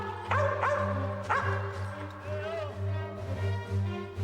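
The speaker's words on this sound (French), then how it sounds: "Dagobert, aboie!" A dog barks a few sharp times, then whimpers and yips, close by, over a steady low hum with voices murmuring underneath.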